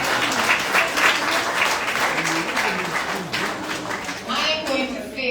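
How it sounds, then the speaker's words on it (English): Audience applause at a concert media launch event at Devon House, dense clapping filling the whole stretch with crowd noise and a voice briefly audible near the end. "Give him a round of applause."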